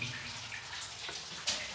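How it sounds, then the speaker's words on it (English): Water trickles faintly from a small brook running through the tunnel of an abandoned gold mine, a soft continuous wash with scattered drips, distant and quiet, with no voices. "So that's where the water was coming from."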